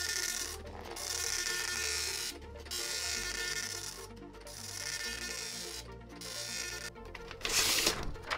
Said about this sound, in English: but in order to test it, let's print a test page